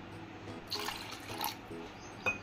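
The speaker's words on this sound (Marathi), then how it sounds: "आता यात डाळ शिजेल एवढं पाणी ऍड करूया" Water is poured into a pressure cooker holding toor dal and chopped spinach, heard as a few short splashing pours close by in a brief, quiet kitchen moment.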